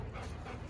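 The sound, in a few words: dog panting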